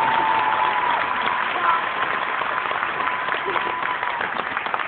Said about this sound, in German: Lass uns einen Applaus für deine Medaille.